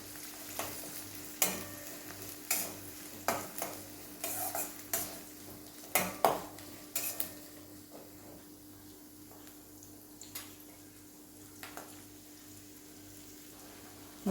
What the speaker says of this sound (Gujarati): તેલ એડ કરી મેં 2 મીડિયમ સાઇઝની ડુંગળીને સમારી લીધી છે। તો એને આપણે સાંતળવાની છે।